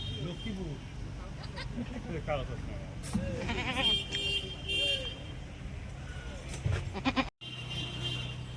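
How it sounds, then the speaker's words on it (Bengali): Goats bleating several times among people talking nearby, with vehicle noise and a brief cutout near the end. "বাপরে বাপ এত বড় বড় ছাগল"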